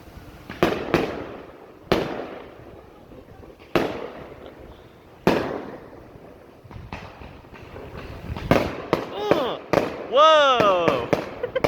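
Fireworks go off in a series of sharp, close booms spaced a second or two apart, then a quicker cluster of crackling bursts, while voices exclaim over the later blasts.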